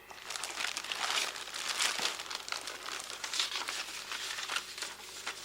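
Plastic bag wrapped around an Absima CR4T Ultimate radio transmitter crinkles and rustles continuously for several seconds, close and moderately loud, in irregular bursts as it is unpacked.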